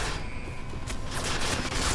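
A heavy exchange of gunfire in Deus Ex: Mankind Divided, a turret and shooters firing from upstairs, with loud overlapping shots and sharp bursts in quick succession, close and steady.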